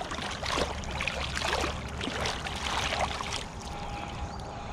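Water splashing and swishing as sand is rinsed off a caught smallmouth bass in a shallow creek, steady close sloshing over a running stream background.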